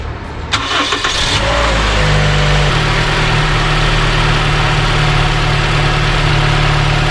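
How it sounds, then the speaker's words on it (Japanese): A Toyota Noah ZRR70 minivan engine cranks briefly and catches, then settles into a steady, loud, close idle with a constant hum, right after a battery replacement with a backup power supply connected. "供給を抜いてエンジンかけます。"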